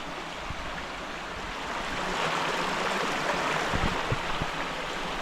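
Mountain stream water runs and splashes steadily along the Carretera Austral in Chile as a pan is filled, a broad rushing wash with a few low knocks, heard close and without talk.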